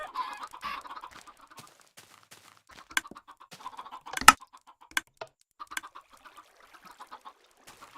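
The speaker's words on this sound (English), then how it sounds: "Because there's a lot of chickens in there. There's like 150 chickens." A large flock of around 150 chickens in the Minecraft video game clucks in a busy, overlapping chatter of short calls, with a few sharper squawks standing out, loud and close with no talk.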